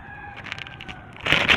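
A cat meows close by outdoors at a home vegetable garden, a short tonal cry followed by a louder, harsher burst, with no talking.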